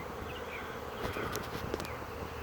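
A swarm of bees buzzes in the open air near a tree limb, a constant dense hum with individual insects whizzing close past, fairly quiet, with no speech.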